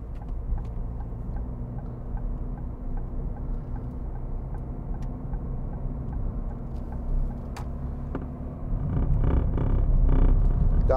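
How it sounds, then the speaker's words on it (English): Inside a 2012 Ford Fiesta 1.4 TDCi diesel hatchback on the move, a steady low road rumble and engine drone fill the cabin, growing louder and rougher toward the end, with no talking. "This car drives lovely."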